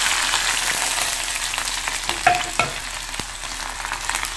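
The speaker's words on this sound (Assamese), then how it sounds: "এই পিঁয়াজ ৰচুনখিনি দি দিছোঁ" Chopped onion and garlic fry steadily in a pan with a continuous close sizzle, broken by a couple of stirring scrapes.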